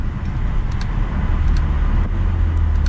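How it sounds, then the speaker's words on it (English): Steady, loud engine noise from a 2022 BMW M440i Gran Coupe xDrive accelerating, with a low rumble that holds throughout, close by, with no talking. "So we have another acceleration we're gonna do."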